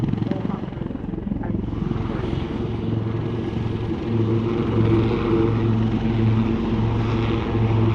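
Display aircraft fly aerobatics at the RAF Cosford Air Show, their droning engine hum rising and steadying at a moderate distance while a commentator talks over it.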